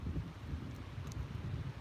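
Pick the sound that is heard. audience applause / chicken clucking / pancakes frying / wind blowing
wind blowing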